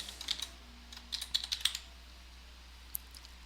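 Quiet keyboard typing entering a column name in a SharePoint form, with a few soft keystrokes early, then a quicker cluster of taps, a lone click near the end and faint room hum.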